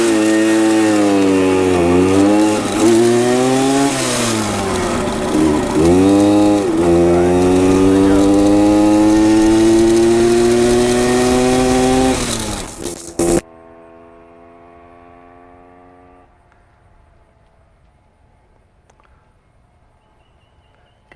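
A 1966 Harley-Davidson Aermacchi M50S motorcycle engine buzzes loudly with rising and falling revs for about thirteen seconds, then cuts away to a much fainter, fading engine drone as the bike passes and recedes.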